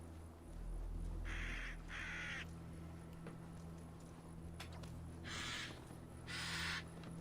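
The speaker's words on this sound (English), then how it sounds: "Get attacked by old crows." Crows caw in a video game set in the kingdom of Mercia, two short caws early and two more later over a steady low ambient hum, with no talking.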